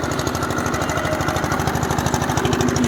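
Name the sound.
engine-driven grinder grinding vegetables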